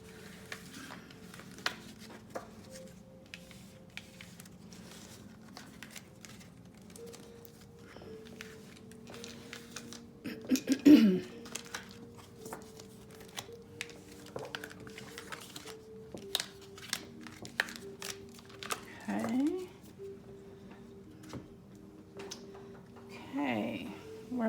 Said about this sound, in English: I'm going to go ahead and pick up pile number 1's cards.